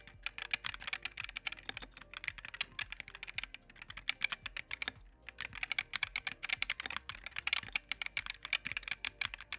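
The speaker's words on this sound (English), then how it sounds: "I absolutely love the sound of this keyboard and how responsive it is" Rapid typing on a TK63 mechanical keyboard, close and crisp, with dense clicky keystrokes in bursts, a short pause near the middle, then more steady clacking.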